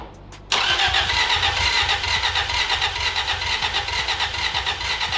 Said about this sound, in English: crank it till I say stop.